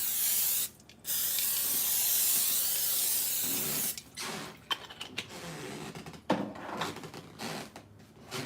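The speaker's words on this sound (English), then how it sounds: "I'm gonna take some canola oil and I'm gonna spray my pan" Canola oil sprayed from a can onto a cooking pan, with a long steady hiss for several seconds, a brief gap, then shorter sputtering bursts mixed with handling clatter and creaks, close up with no talk.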